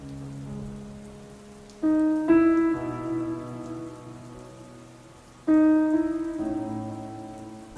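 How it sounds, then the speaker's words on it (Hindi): Steady rain falls, a soft continuous hiss beneath louder sustained musical tones that swell in twice. "बारिश हो रही है।"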